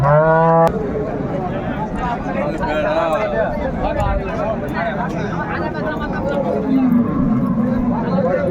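A dairy cow lows once, loud and close, with a few rising harmonic moos at a village cattle market, followed by a steady hubbub of crowd chatter and livestock noise; a fainter moo surfaces near the end.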